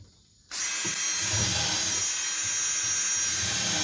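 Galvanized 2.5-inch exterior screws being driven into the leg of a wooden garden bench, with a power drill whirring loudly and steadily after a brief quiet start.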